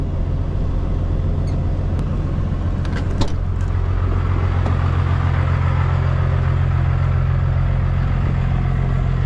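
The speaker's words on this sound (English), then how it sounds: "I'm gonna back this thing up to my trailer" A vehicle engine idles and rumbles steadily while backing up toward a trailer with thin ramps, a constant low drone with faint clatter throughout, close and alone.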